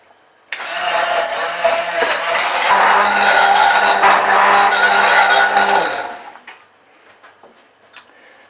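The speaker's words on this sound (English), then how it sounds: "And then I'm gonna just blend it in with the immersion blender." An immersion blender whirs loudly for about five seconds, grinding avocado chocolate cake batter steadily, then cuts off, leaving a few faint clicks and knocks.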